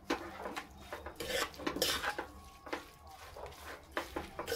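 Green garlic pickle is stirred with salt in a pot, a spoon scraping and clinking against the metal in uneven bursts, close and moderately loud, with no talk.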